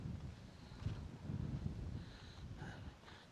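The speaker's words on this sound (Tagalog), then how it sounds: "Yung wala pa nga lang bagyo, sobrang lakas na po ng hangin." Strong wind rumbles and buffets the microphone in gusts, with faint rustling and a few higher whistling tones near the end.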